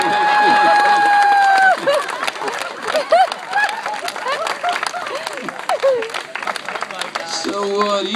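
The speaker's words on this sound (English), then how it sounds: "People in the audience, nice warm round of applause for our volunteers." A crowd applauds volunteers at a hypnotist's stage show, steady clapping and cheering under a hypnotist's voice, with tonal music cues near the start and end.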